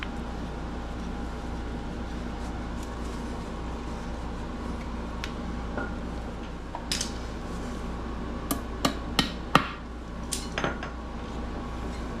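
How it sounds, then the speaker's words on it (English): Several sharp metallic hammer taps seat alignment pins during a Yamaha 115 outboard water pump rebuild, landing in a quick cluster near the end over a steady mechanical hum, with a few scattered clinks earlier on. "just tap the new ones into place with the hammer"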